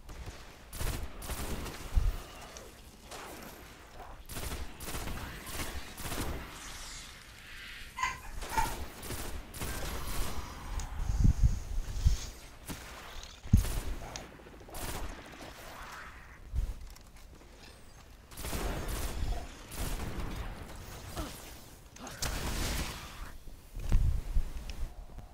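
Bursts of rapid gunfire from the sci-fi shooter game Destiny, repeated volleys and single shots scattered through a noisy battle over about 25 seconds, with no talk.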